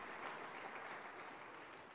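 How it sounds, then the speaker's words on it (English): Steady applause from a dinner audience at a disability-inclusion keynote event, a fairly soft, even wash of clapping filling the whole stretch. "give him a round of applause"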